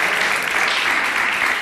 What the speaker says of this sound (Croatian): Ovo zaslužuje aplauz, stvarno